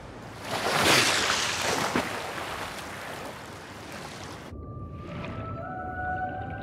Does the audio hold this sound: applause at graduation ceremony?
no